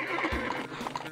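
Game horses in a Roblox racing game, hooves clip-clopping with a short whinny, quick and fairly faint over a busy background.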